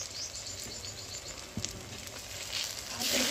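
Soft sizzling of coriander and turmeric powder frying in oil in a pan for raw banana kofta, a faint steady crackle with a small pop and rising hiss toward the end.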